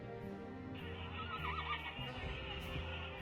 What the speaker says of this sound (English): Unintelligible noises with crashing sounds and a horse's neigh.